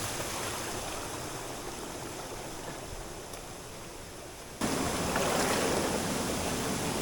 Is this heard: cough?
no